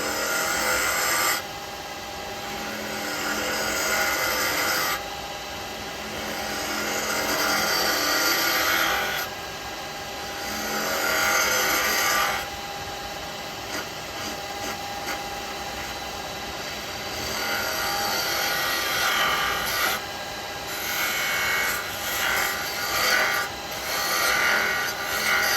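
Woodturning lathe hollowing end grain on a snowman hat with a small hollowing tool, a continuous close scraping and hissing cut that swells and eases in long passes, with no talking.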